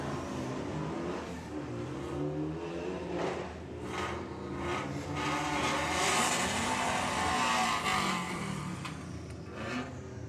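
A VW Beetle and a VW Caddy drag racing at Santa Pod Raceway, with sustained loud engine roar and revving building and holding, broad and continuous, with no talk over it.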